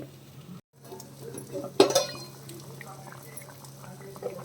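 A pot of Koramenu fish curry simmers with quiet, low bubbling, broken by a brief clatter near the start before the gentle boil continues.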